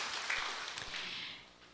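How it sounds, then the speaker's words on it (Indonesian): A church congregation applauds in a short burst of many hands clapping, loud at first and then trailing off within about two seconds. "Tepuk tangan dulu untuk Tuhan Yesus"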